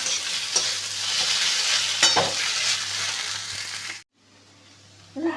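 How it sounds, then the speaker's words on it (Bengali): Fried shrimp are stirred into stems frying in a pan, making a loud, continuous sizzle with scraping stirs that cuts off abruptly near the end, followed by a brief quiet pause. "এবার এর মধ্যে ভেজে রাখা চিংড়ি মাছগুলোকে দিয়ে দেবো দিয়ে ভালো করে দিয়ে দেবো"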